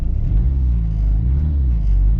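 A Peugeot 806 engine revs gently, giving off a dull, tractor-like low rumble that stays steady and close, with a slight rise as the throttle opens.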